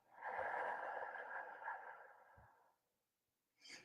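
A long, steady exhalation as a breathing exercise for calming anxiety, a soft airy rush lasting a couple of seconds and fading out, followed by silence and the start of a fresh breath.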